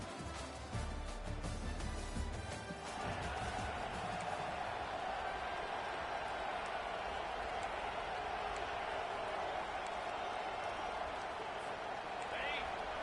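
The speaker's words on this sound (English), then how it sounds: "It's early, but this crowd is fired up. Listen to this noise here." A large crowd at Bryant-Denny Stadium in Tuscaloosa, Alabama, for a college football game roars steadily, a dense sustained wall of cheering and noise with a brief louder burst at the start.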